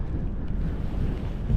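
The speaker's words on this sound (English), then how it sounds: "Yeah, it's a bit windy." Steady wind at a wild campsite in Norway's Jotunheimen mountains buffets the microphone in a low, continuous rumble with gusts swelling toward the end; no voices.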